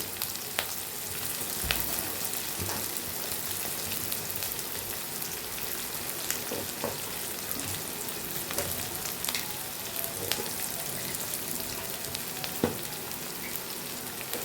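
Lightly salted onions fry in a pan for a small-fish and ridge gourd curry, giving a constant, crackling sizzle like rain. Occasional stirring taps can be heard, and no one talks.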